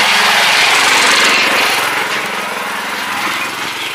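Tractor engine labouring on a rough mountain road near Pumdikot, Pokhara, Nepal, a loud steady close drone with a slight easing of intensity, no talk.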